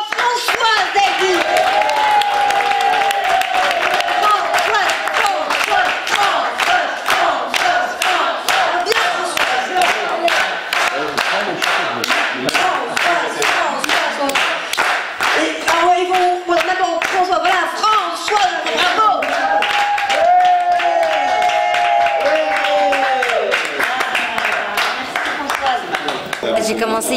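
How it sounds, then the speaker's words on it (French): An open-mic comedy club audience in a Paris café claps in rhythm, steady rapid beats running throughout with cheering and shouted voices over the clapping. "Et on applaudit tous bien fort François Zeddy"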